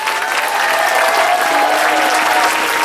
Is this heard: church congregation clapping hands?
yes